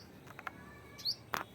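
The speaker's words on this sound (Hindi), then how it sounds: "चिड़ी चिड़िया चिल्ला रही, चिड़िया चिल्ला रही।" A bird calling near its nest gives a few short, thin chirps, quiet and spaced apart against a faint, hushed outdoor background.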